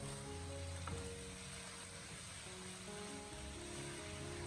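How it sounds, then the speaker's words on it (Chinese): Cucumber, wood ear mushroom and pork stir-fried in a wok over high heat produce a faint, even, broadband sizzle with a brief knock near the start, quiet and without speech. "我们将火候改为大火，将它进行快速的翻炒，将所有食材翻炒均匀。"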